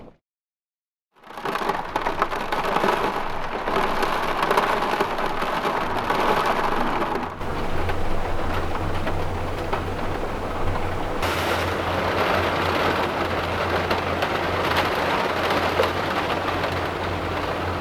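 Heavy rain and a strong storm pound a van through the night in winter, a dense steady drumming that starts abruptly after a brief silence, joined midway by a low rumbling hum, with no voices.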